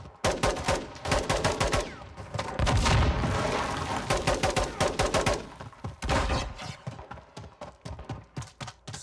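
Call of Duty Modern Warfare 2 gameplay fills the mix with dense, rapid automatic gunfire and bursts of heavy blasts, loud and continuous with brief pauses between volleys.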